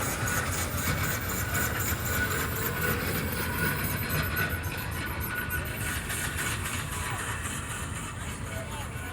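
An old vintage three-cylinder tractor engine of the 35 type runs at an outdoor vintage show, a steady rumbling chug with a faint rhythmic pulse; people talk nearby over the engine.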